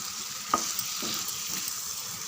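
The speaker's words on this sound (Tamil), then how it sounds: "இதெல்லாம் சேர்த்து ஒரு 2 நிமிஷம் அப்படியே வதக்கி விடுங்க" Spices with tomato sizzle and fry in a pan for kathirikai thokku, a steady close crackle with a few soft stirring scrapes.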